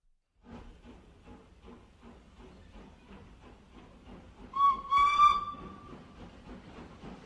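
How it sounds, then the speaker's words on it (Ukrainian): A toy or recorded train whistle gives a loud, sustained hooting blast midway, rising over a steady rhythmic chugging of train wheels that runs throughout. "Ту-ту-ту гуде гудок."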